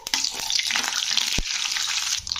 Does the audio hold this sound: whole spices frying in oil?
yes